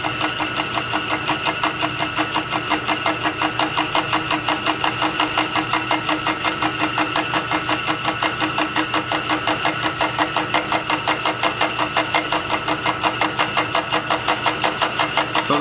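A machine cutting an extractor cut into an M1917 Enfield rifle, giving a steady, loud mechanical drone with a fast, even pulsing rhythm that runs throughout without pause, no talk.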